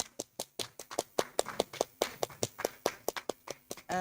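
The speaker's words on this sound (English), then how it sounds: "A round of applause for her, please." Sparse hand clapping at a democracy and governance forum, a small number of distinct, evenly spaced claps rather than full applause, fairly quiet and close, with no talking over it.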